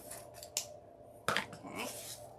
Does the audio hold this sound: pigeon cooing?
no